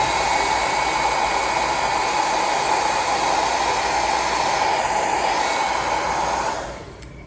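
Hair dryer blowing steadily and loudly while drying tinted wig lace during a 13x4 lace wig install, a constant whooshing roar that cuts off near the end.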